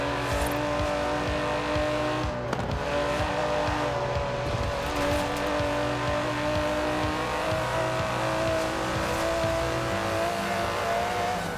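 Steady drone of an Aston Martin DB11's 5.2-litre twin-turbo V12 in Forza Horizon 4, a loud, sustained engine note with a brief shift blip early on, no speech.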